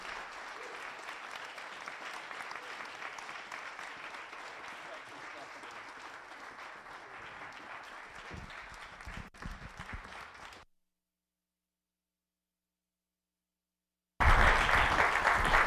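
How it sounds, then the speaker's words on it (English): Applause from an audience at a library stage event on a snowy day, a steady dense patter of many hands lasting about ten seconds, then cutting to silence before another loud burst of clapping returns near the end. "let's give a big round of applause and welcome Guy Trebay and Chris Frantz"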